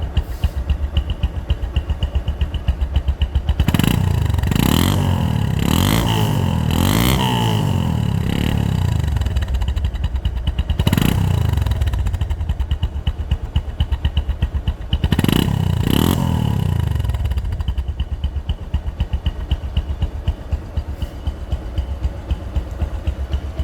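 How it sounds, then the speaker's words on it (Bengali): Close, loud Bajaj Discover 135 motorcycle engine idling steadily, broken by a cluster of sharp throttle blips and then a few more separate revs, each rising and falling quickly. "এবার শুনতে হবে sound discover one thirty five গাড়ির যে মূল আকর্ষণ সাউন্ড"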